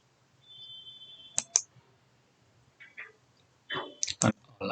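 Computer mouse clicks during work in SAP Data Warehouse Cloud software: a few quiet, sharp clicks in pairs and small clusters, spaced apart over a faint background hum.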